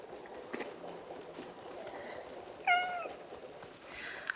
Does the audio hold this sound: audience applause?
no